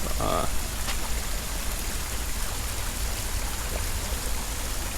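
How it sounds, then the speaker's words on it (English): Water pouring over a man-made waterfall in a park, a constant broadband rushing that stays even throughout, with a brief higher chirp near the start. "This is a man-made waterfall."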